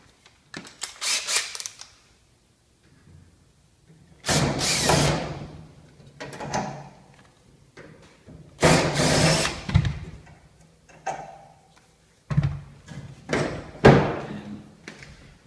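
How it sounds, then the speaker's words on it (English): Screws being backed out of the face of a wall heater, heard as several bursts of whirring, rattling tool noise separated by quiet gaps, close and fairly loud. "we're going to remove the screws."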